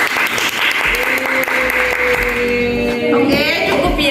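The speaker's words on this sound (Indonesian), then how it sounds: "Tepuk tangan dulu dong." Middle-school students clapping in a classroom, a loud, dense burst of many hands that carries through, with a sustained tone and faint voices beneath.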